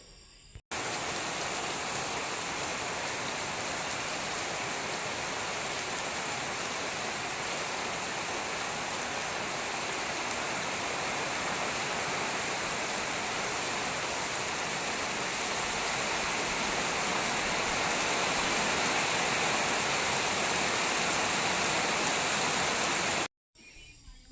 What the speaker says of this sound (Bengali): বাইরে দেখো কি পরিমাণে বৃষ্টি